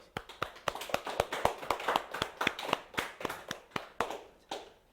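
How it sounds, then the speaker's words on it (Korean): Church congregation at an Easter morning service clapping in a loose, fairly steady rhythm, distinct separate hand claps close by that fade out toward the end. "우리 박수 한번."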